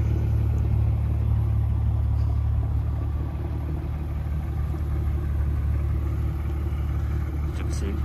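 Idling 2014 Toyota Avalon with quad exhaust tips, its resonator, mid muffler and rear muffler cut out, gives a steady, loud low rumble that holds constant throughout without revving.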